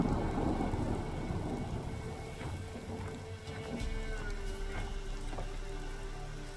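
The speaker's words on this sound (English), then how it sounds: "Nice, calming, relaxing rain." Steady rain hisses through a calm video game scene, a continuous wash of drops with faint rumbling underneath, holding at an even level throughout with no voices.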